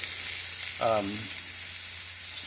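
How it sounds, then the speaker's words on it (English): Pork chops sear in a hot oven-barbecue setup, a steady bright sizzle and hiss throughout, with a short voice briefly heard over it. "We're getting a good sear on the outside."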